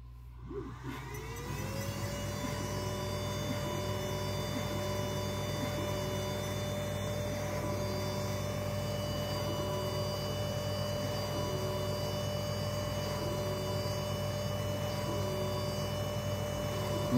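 A WeCreat Vision 20W class 1 laser engraver starts up and runs an engraving, a steady close whirring hum with fans spinning up and a faint rhythmic pulsing motor pattern throughout, no talk.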